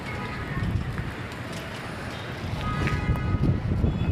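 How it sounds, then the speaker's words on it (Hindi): Heavy rain with large drops pours down steadily, a dense broadband patter building louder toward the end, with faint intermittent voices beneath. "बारिश तो तेज़ हो रही है, मोटी मोटी बूंदें आ रही हैं"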